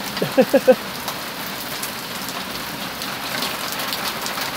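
Pea-sized hail pelts down in a storm as a steady, dense patter, with a few sharper knocks near the start standing out above the continuous roar.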